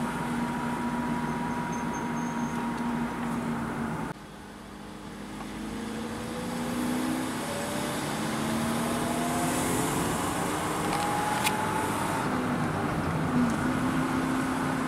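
Small electric motor in a toy vehicle accelerating at its loudest, a rising whine that sweeps upward in pitch several times over a steady mechanical hum, close and continuous, no talking.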